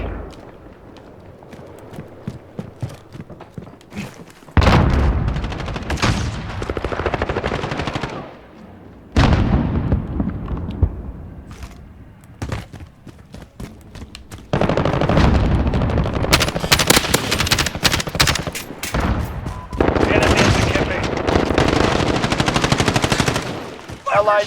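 Call of Duty gunfire: repeated bursts of automatic weapon fire crackle loudly in several long volleys, with brief quieter gaps between the sustained shooting.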